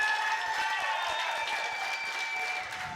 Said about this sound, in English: Everybody, please give a big round of applause for Chase Ross.